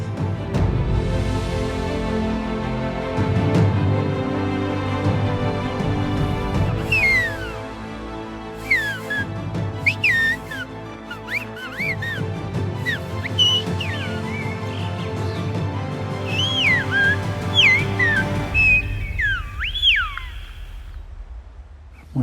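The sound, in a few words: Tenerife whistled language (silbo) calling a daughter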